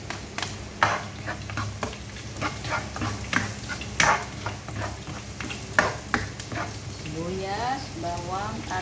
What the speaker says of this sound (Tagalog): Lutuin na natin ang sibuyas konti.